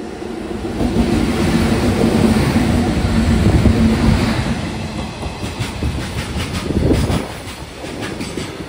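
A green WAG-9 electric locomotive hauls a train past on the line through the Nallamala forests between Nandyal and Giddalur, a loud, close rumble with rhythmic wheel clatter and a brief squeal toward the end.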